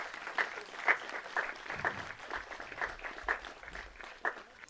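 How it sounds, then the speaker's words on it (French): Applause from an audience at the reopening of a cultural centre in Hienghène, New Caledonia, heard as fairly faint, scattered clapping with distinct individual claps standing out against a soft background. "On peut l'applaudir."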